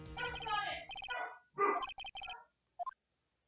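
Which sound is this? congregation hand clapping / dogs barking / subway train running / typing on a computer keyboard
dogs barking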